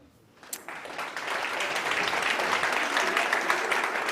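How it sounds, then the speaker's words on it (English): A crowd at a chairman's conversation event breaks into applause after a quiet start, building quickly into a full, continuous round of clapping that stays loud to the end. "I should hope that round of applause is for yourselves"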